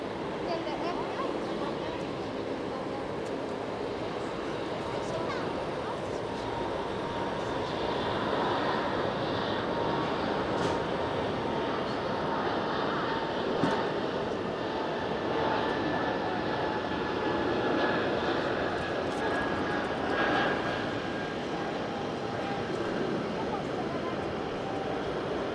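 Passenger jet airliner taking off at Geneva Airport, heard as a steady, broad roar of engine noise that swells slightly mid-clip and holds throughout, moderately distant, with no talk over it.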